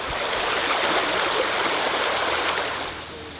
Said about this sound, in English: the girls had built this dam across, kind of making a waterfall